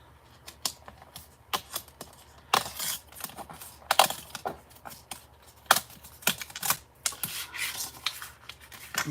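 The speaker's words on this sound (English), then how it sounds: "I'm gonna try to tear the paper" Paper is torn along a tearing ruler in short, crisp bursts of ripping and rustling, with irregular clicks and handling noises in between, close and fairly quiet.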